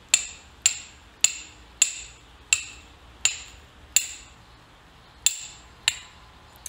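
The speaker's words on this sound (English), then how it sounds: "next thing I'm gonna try is flint and steel char cloth ignition" Flint strikes steel over char cloth about ten times in a row, each a sharp metallic scrape-click at a steady pace of roughly one every two-thirds of a second, close and clear against near silence.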